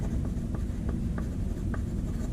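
A pencil writes a name on paper: a dense, close scratching of graphite with short strokes ticking every half second or so, steady and without any talk.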